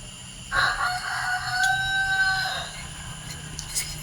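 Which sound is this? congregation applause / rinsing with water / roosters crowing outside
roosters crowing outside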